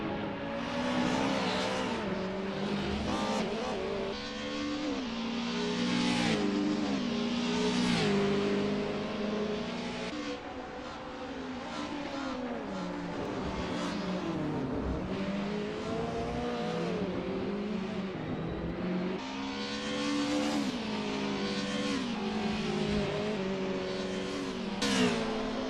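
Early-2000s DTM race cars in the video game Assetto Corsa on a practice out lap at Circuit Zolder, engines revving and shifting continuously with rising and falling pitch, loud and close, with occasional passes.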